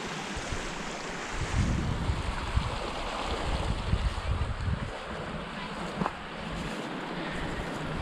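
Water in a Wyoming mountain creek flows steadily along the bank, a continuous broadband rush with some wind buffeting on the microphone, fairly close and alone without talk.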